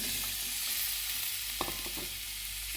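Fried potatoes are stirred into tomatoes sizzling in a pan: a steady, close hiss of frying with a few brief utensil clicks near the end, and no voices.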